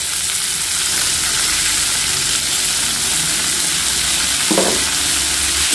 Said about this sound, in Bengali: আলু আর বরবটিটাকে আমি খুব ভালো করে 2-1 মিনিট ধরে ভেজে নেব।